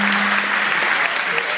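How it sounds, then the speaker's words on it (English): Audience applause at a high school hypnosis show: a dense, steady wash of many hands clapping at once, loud and sustained throughout with no break. "Give them a big round of applause."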